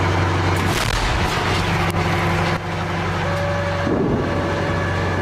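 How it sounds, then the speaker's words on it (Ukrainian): A few sharp, heavy booms of artillery fire on a war front punctuate a steady, loud engine rumble that runs throughout. "і вже артилерія стріляє"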